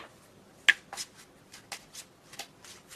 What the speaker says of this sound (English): now it seems like I need to shuffle a lot all of a sudden